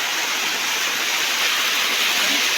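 A forest waterfall hisses as a steady broadband rush of falling water at night, continuous and fairly loud with no other sounds.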